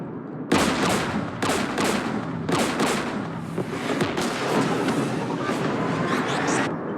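Loud, close gunfire from the video game Mass Effect 3 erupts in repeated rapid bursts and volleys, dense and continuous after a brief quiet start, with heavy explosive booms mixed in.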